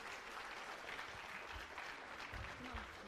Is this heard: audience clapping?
yes